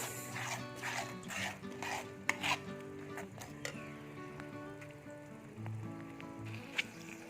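A spoon scrapes and clicks through a paneer gravy as it is stirred in a pan, a soft irregular run of stirring sounds with sharper knocks against the metal, fairly quiet.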